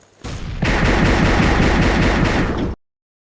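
Rapid automatic gunfire in a video game, a dense burst of loud repeated shots that runs for about two seconds after a single opening shot, then cuts off abruptly into silence.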